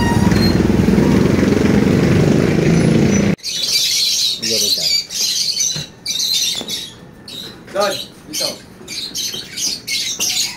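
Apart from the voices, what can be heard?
large birds squawking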